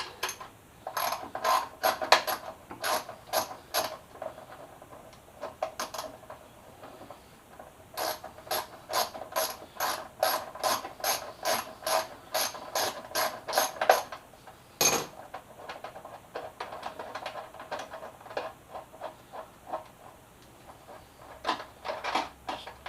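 A ratchet wrench with an 8mm socket works bolts on a crashed Yamaha FZ6R motorcycle, giving fast, crisp clicking bursts in repeated runs with short pauses, close and fairly loud, with no talking.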